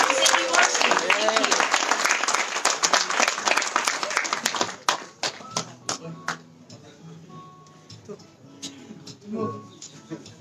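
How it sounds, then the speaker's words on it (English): A sports club gala dinner audience breaks into loud, dense applause for an honoured sports figure, then thins over about five seconds to scattered individual claps, with faint voices murmuring underneath. "Can we have a big round of applause for him?"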